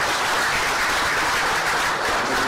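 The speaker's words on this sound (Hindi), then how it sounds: "उनका ताली बजा के स्वागत कीजिए।" Audience applause at a live public event, a dense, continuous roar of clapping from a large crowd, loud and unbroken throughout.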